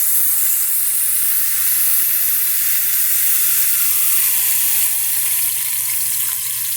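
A smashburger patty sizzles loudly and steadily in a greased pan while pressed flat under a greased pan lid, a continuous dense hiss with a low steady hum beneath and no voices.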